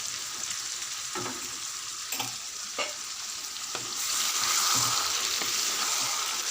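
Brinjals coated in masala paste fry in a pan for stuffed vankaya curry, with a constant sizzle, several soft spoon scrapes as they are stirred gently, and the hiss swelling louder toward the end.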